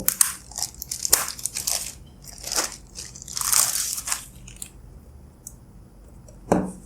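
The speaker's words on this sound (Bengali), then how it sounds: "তো আমরা এটিকে সিলটিকে আনপ্যাক করবো" Crinkling and crunching of packaging as a sealed box holding an LD MPPT 40 A solar charge controller is opened by hand, with close, irregular rustles and snaps and no talk.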